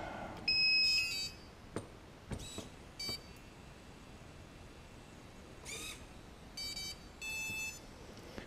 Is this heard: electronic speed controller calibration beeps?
yes